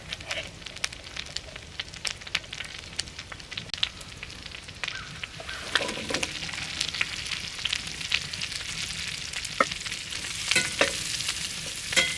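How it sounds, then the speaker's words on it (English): Asparagus fries in garlic herb butter in a pan with a continuous close crackling sizzle, growing louder partway through as the spears are moved around, with sharp pops and occasional utensil scrapes. "Still gotta cook the asparagus. This is garlic, butter, and herb, just for the record."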